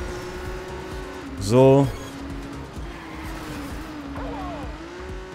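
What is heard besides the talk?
car drifting over a bump in the video game TrackMania Turbo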